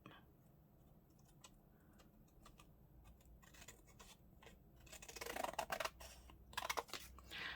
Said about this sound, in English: I'm going to do it with the smaller scissors